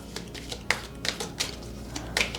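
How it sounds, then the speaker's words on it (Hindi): Oracle cards shuffled by hand during a tarot-style reading, giving a series of sharp papery taps and riffles at an irregular rhythm, close and fairly clear, with no talking. "ओके, ऑरेकल कार्ड्स को भी शफल कर लेते हैं।"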